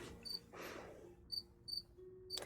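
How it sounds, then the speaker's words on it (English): Crickets chirp in short, bright, evenly spaced pulses inside the video game Destiny, with a breathy whoosh and low humming tones behind them. "I hate crickets so much."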